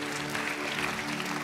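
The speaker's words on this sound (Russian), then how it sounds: "Под наши аплодисменты." An audience applauds at a church child dedication service with dense, even clapping throughout.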